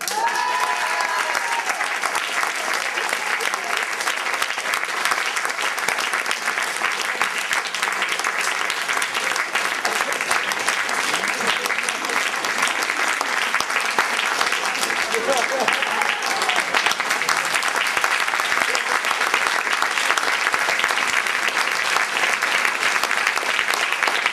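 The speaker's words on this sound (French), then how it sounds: "il va falloir applaudir très fort parce qu'il entend mal" A theatre audience claps loudly and continuously for an actor in a stage comedy, even dense applause holding steady from start to finish with faint voices beneath.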